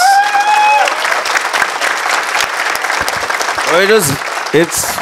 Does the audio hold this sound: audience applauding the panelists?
yes